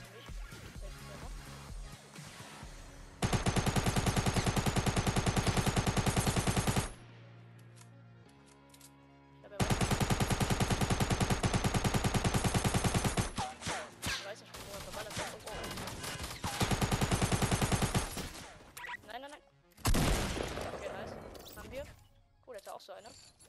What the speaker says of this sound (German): Wird auf jeden Fall noch geschossen. Hier geschossen.